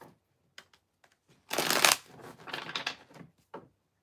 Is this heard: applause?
no